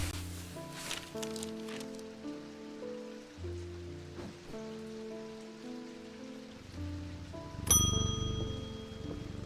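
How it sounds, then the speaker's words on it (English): A video-game bell rung to call in a customer gives one bright metallic ding near the end, over a backdrop of gentle looping game music with no talking. "I could ring the bell to call in a customer."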